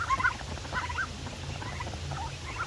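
Turkeys calling in a farmyard on a hot day, with short warbling gobble-like bursts near the start and scattered fainter calls later over a steady low background hum.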